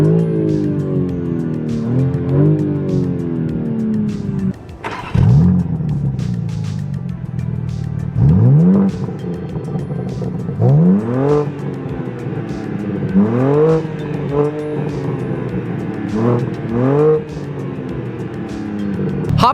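A 2021 BMW M4 Competition with quad exhaust tips rumbles and revs sharply several times, with loud rising blips and crackles between steady idle stretches.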